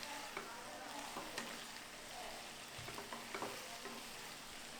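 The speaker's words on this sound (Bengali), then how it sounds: "দিয়ে এটাকে একটু নেড়ে চেড়ে নেব" Mushrooms fry in a pan with a soft, steady sizzle while a spoon stirs them, giving light scraping taps, all fairly faint and close.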